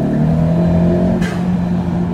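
A 10th-generation Honda Civic engine with a cold air intake roars steadily at high revs close by, with a brief airy whoosh partway through before the drone continues.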